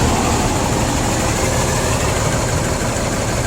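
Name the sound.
diesel engine idling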